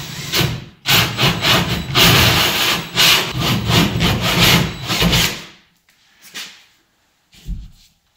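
Sheetrock gets sawn by hand to cut a hole in a 2x6 wall, close rasping back-and-forth strokes in a steady rhythm for about five seconds, then a few scattered scrapes and knocks.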